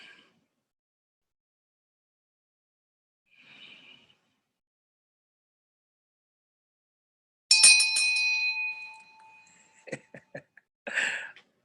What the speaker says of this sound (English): Adrian, I found a bell.